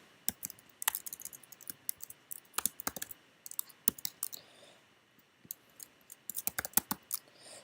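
Fingers tapping on a computer keyboard at a programming workshop, giving irregular bursts of crisp clicks with short pauses between flurries, close and clear with no voices.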